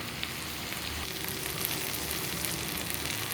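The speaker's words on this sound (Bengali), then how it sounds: "এরপর একটু কাজু বাটা দিচ্ছি।" Cashew paste going into a pan of mutton curry, with a steady, even sizzle of frying oil close by and no voices over it.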